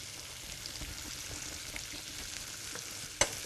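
Chanterelle mushrooms seasoned with pepper fry in a pan with a soft, steady sizzle and faint crackle, quiet and close, with one sharp utensil click near the end.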